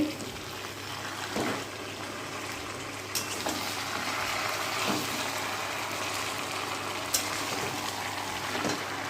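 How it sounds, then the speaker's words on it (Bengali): Meat sautéed (kosha) in a pan gives a steady close sizzle and bubbling hiss, with occasional louder spatters and clinks standing out over the continuous frying noise. "দেখো মাংসটা এবার কষানো চলছে।"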